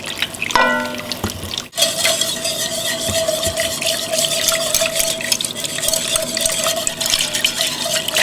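A casserole mixture for a cheesy chicken casserole is whisked rapidly, producing a steady wet swishing and churning close by, with a brief clink near the start and a sustained hum underneath, and no talking.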